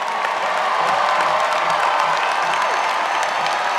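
Graduates at a 2022 commencement ceremony get loud, sustained applause from a large crowd, with cheering and whoops mixed into the clapping throughout.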